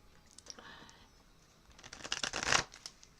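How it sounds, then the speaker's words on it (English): Cards being shuffled close by, soft riffling at first then building into a louder burst of rapid flutters near the end. "And I'm sure you can hear me shuffling."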